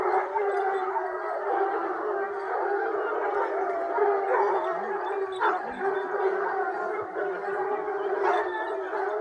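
Gascon Saintongeois hunting dogs bay in long, sustained howls during a boar hunt, a steady chorus of several hounds carrying on continuously at moderate distance with no talk over it.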